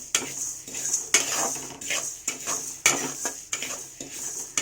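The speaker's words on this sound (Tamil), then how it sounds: "எள்ளு கூட நல்லா வறுக்கணும், வறுத்துட்டா நல்லாயிருக்கும்." Sesame seeds dry-roasting in a pan for poriyal podi spice powder, stirred with a metal spoon that scrapes and clinks against the pan in a regular rhythm, close and fairly loud with no speech.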